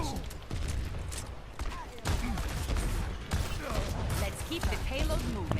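Barrage ability fire in an Overwatch match on the Rialto map: dense, rapid bursts of explosive shots roll on almost without a break, with commentary voices talking over the game sound.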